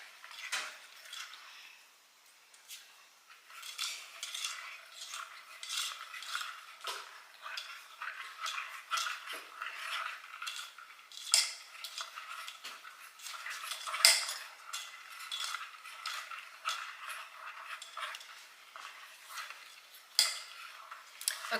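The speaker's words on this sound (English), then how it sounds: "we're going to put our last egg in and make sure that's really well mixed together" Egg being mixed into brownie batter in a bowl, with faint, irregular clinks and scrapes of a utensil against the bowl repeating steadily at close range.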